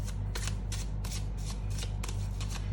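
Tarot or oracle cards are shuffled for a pick-a-card reading, giving quick repeated riffling flutters close to the microphone over a steady low hum.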